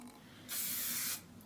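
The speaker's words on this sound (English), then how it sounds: "This is the spray heat protectant before I'm styling my hair." A single close, steady burst of heat protectant spray from a pump bottle misted onto natural hair, lasting about half a second in a quiet room.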